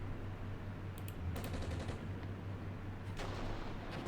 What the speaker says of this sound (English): now they're hitting us with what could be recoilless rifle fire, what I think is just mortar fire